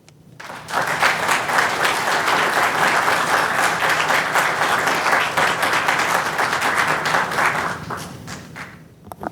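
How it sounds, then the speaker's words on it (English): Sustained audience applause at a city council public work session, dense clapping from a room full of people that swells quickly, holds steady and tapers off near the end. "if we could get one more round of applause for Mr. Bloom, for City Council and the EDA"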